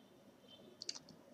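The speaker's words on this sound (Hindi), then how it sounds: "इस पर राइट क्लिक करके" A computer mouse right-click: a faint, close, crisp double click in an otherwise quiet room.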